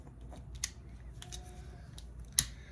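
Scissors snipping loose embroidery threads on a sweatshirt, a few faint, quiet snips with a sharper click near the end.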